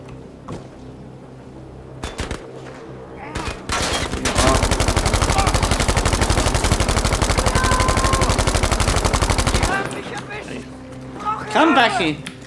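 Battlefield V gunfire opens with a few scattered shots. A long, dense burst of rapid automatic fire follows and dominates for several seconds, close and loud, with a player talking over parts of the action.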